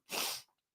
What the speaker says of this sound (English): I can hear myself sneeze